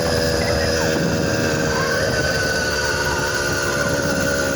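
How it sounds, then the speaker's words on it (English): A 100cc EK100 bicycle engine kit that runs weak out of the box drones loud and continuous while riding uphill, a steady buzzing motor with wind noise and no voices. "The 4-little engine just does not have enough airflow and power to get me up the hill"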